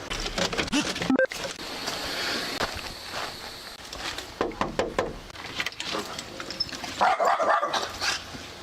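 A dog barks in several loud, close bursts spread across the scene, with scuffling footsteps and background noise between barks.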